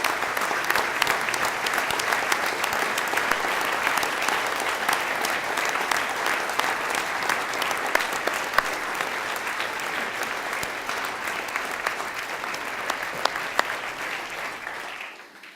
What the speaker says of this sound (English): A big round of applause for this team.